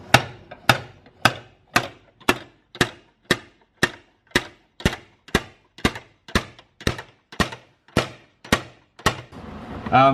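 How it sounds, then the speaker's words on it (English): A slide hammer pulls on a car chassis rail in a steady series of sharp metallic impacts, about two per second, repeating evenly for the whole stretch with no talking. "pull it down with the slide hammer"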